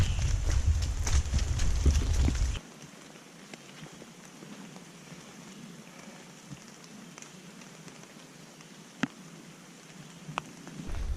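Light rain patters steadily on a forest hiking trail in the Great Smoky Mountains, dense at first and then thinning to a soft, sparse drizzle with occasional louder drops nearby.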